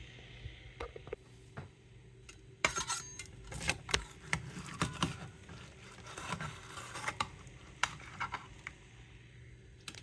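A knife cutting through a baked high-protein breakfast dish in a pan, quiet metallic scrapes and taps at an irregular pace, close and alone.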